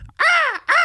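A person imitates a crow's caw with two loud, harmonic, rasping caws close by, the first longer and the second starting after a brief gap.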